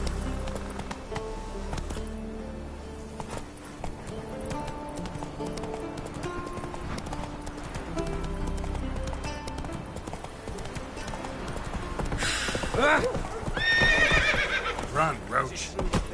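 Horse hooves clip-clop at a steady gallop through a video game scene, with a whinny rising near the end, all under a constant bed of game music and ambient sound while a person talks over it.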